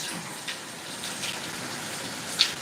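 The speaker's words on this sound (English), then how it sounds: "Much needed rain." Steady rain falls outside on a gloomy day, a soft continuous hiss of drops with a few brief louder spatters, close and even, with no voices.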